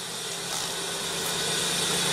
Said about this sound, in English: Just put your foot on the brake, hit the button to start.